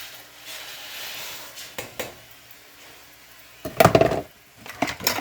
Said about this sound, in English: So I'm putting in the macaroni.